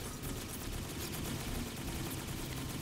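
Turrets in Dungeon of the Endless fire in rapid, continuous bursts of dense gunfire, quiet yet steady, with no talking over them.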